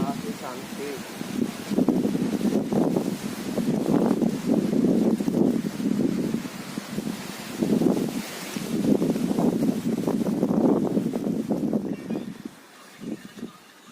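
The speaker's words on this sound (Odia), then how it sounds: "କି ପବନ ହଉଛି ଏଠି।" Strong wind blows across a hilltop and buffets the microphone in heavy, surging gusts that rise and fall for the whole stretch, with a voice partly heard beneath the roar.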